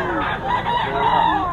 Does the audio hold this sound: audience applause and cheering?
no